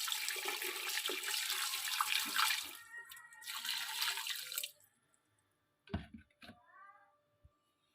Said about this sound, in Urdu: پانی اتنا ڈالیں کہ جس میں یہ ڈوب جائے۔